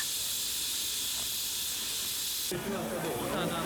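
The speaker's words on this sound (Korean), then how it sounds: "이 작은 기차역을 유명하게 만든 건 바로 이 귀여운 증기 기관차." A loud, continuous hiss of steam venting from a wood-fired steam forest-railway locomotive in Romania, steady throughout, with a harsher, rougher burst of noise joining in near the end.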